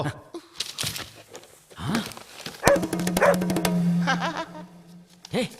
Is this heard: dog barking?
yes